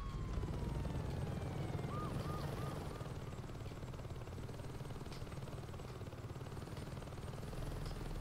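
A helicopter in the Saints Row 2 video game, its steady rotor and engine drone running continuously at moderate level, with a short warbling electronic tone partway through.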